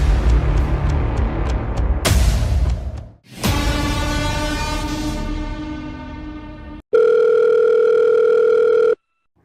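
A telephone signal plays alone: a broad burst and a sweeping tone give way to a steady, loud two-tone electronic ring lasting about two seconds before it cuts off.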